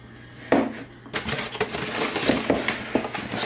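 Clinking and scraping of a utensil stirring yeast and olive oil in a bowl for pizza dough, with irregular knocks against the bowl, close and moderately loud, no talk.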